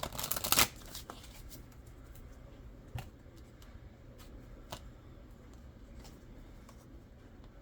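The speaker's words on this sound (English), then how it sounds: "we're going to pull two more oracle cards" Oracle cards are shuffled at close range, opening with a brief, loud riffle burst and followed by a few soft, scattered taps and flicks as cards are drawn, all over a low, quiet room background.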